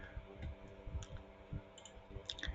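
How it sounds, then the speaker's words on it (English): A computer mouse clicks several times up close, soft sharp taps spaced irregularly against a quiet background. "And here I will click it."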